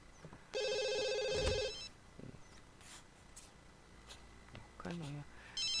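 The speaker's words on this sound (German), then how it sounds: "Und das Telefon bimmelt." An electronic telephone ringtone in The Sims video game chimes in a bright burst near the start, followed by quieter game sounds and brief blips, with no talking.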